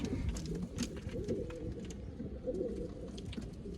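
Domestic pigeons of old-line breeds coo steadily in a loft where young birds are being raised, a continuous low layered cooing from many birds at close range with occasional wing and shuffling sounds.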